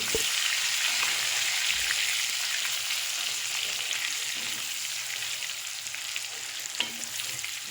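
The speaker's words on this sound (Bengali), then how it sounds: "আলুগুলো না একটু হলুদ দিয়ে ভেজে নিলাম" Potato pieces fry with turmeric in a pan, giving a continuous hiss-like sizzle at moderate level with a faint scrape or two. There is no talking.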